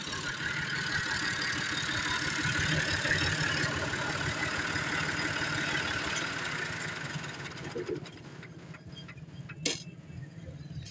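A Massey Ferguson 350 tractor's diesel engine idles steadily with a low, even rumble for most of the clip, then quiets slightly near the end with a few light clicks and knocks.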